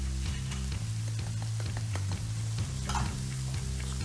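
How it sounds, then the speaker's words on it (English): Ground cumin and sweet paprika sizzle in hot oil with onions as they are stirred in a pan, a steady close frying hiss broken by scraping spoon strokes and soft clinks, with no talking. "Let's give that a stir and get it all incorporated."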